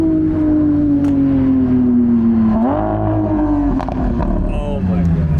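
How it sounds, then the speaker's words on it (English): A Lamborghini SVJ's V12 engine roars loud and close, its drone sliding lower before a sharp rev blip on a downshift, then settling back into a sustained, sinking howl. "That's the SVJ, guys. The classical V12 Symphony."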